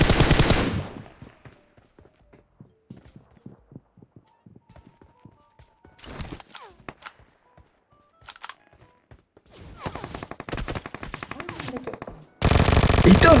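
Video game gunfire in a shooter match: rapid bursts of automatic shots, some loud and close, others sparse and fainter, separated by near-silent gaps, with brief voices in between.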